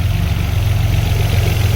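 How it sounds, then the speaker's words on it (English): A Vauxhall's 3 litre V6 Omega engine, with ported heads, Piper cams, an enlarged throttle body, tubular manifolds and a full stainless exhaust, idling close by in a loud, steady, deep throb. "under the bonnet we have a 3 litre V6 Omega engine"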